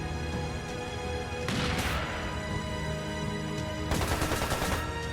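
Gunshots in the video game The Legend of Heroes: Trails Into Reverie: two sharp, loud cracks with ringing tails, the second a dense rattling burst, over a steady tonal music bed.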